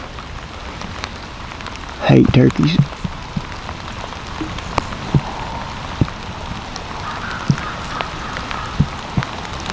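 Rain falling outdoors in the woods, a steady soft patter with scattered sharper drops hitting nearby, and a brief burst of louder rustling early on while someone speaks briefly.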